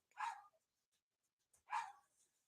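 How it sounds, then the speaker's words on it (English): A pet dog barks twice in the background, faint and well apart, each bark short and sharp against otherwise near silence. "You can hear my dog barking in the back because he got in trouble."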